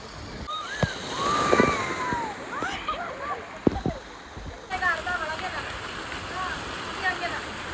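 Water pours and splashes nearby at a water park in Kalaburagi, with excited voices talking and calling out over the rushing spray.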